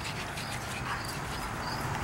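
A dog, one of several household pets including a poodle, gives soft whimpering yips and panting noises up close, continuous and fairly loud against a noisy indoor background.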